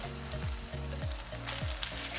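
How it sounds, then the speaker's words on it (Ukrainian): Steady close sizzling of sandwiches frying in sunflower oil in a pan over medium heat, a continuous crackling hiss with a faint rhythmic scraping underneath. "Обсмажуємо з одного боку приблизно 3 хвилини"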